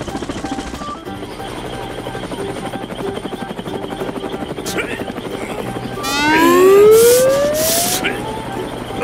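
A helicopter's steady rhythmic chopping thrums loudly throughout, joined partway by a rising and falling siren-like wail.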